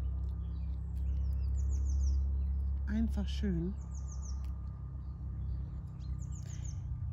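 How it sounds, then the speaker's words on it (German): Birds sing in a small forest, with short high chirps and warbles at intervals over a low, steady rumble. A voice speaks briefly in the middle. "Einfach der Natur zuzuhören, den Vögeln,"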